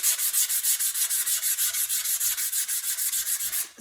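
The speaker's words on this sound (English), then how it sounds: "I want it to feel really nice and smooth, so that's what this sandpaper is for." Sandpaper worked by hand over rough pallet wood to smooth it, a steady rapid back-and-forth scratching of about two dozen even strokes, close and loud with no talking, stopping abruptly at the end.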